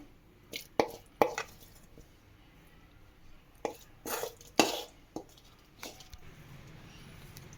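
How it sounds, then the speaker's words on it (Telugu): Cooked bottle gourd goes into a mixer jar in a home kitchen, heard as a series of soft irregular clinks and knocks of spoon against steel. The sounds are close but quiet and separated by short pauses. "దీన్ని మిక్సీ జార్లో వేస్తున్నాను మొత్తం."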